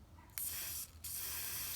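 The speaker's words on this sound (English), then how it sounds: "a little bit of shiny metallic silver spray paint" Shiny metallic silver spray paint hissing from an aerosol can, two close sustained bursts with a short break between them, the second running to the end.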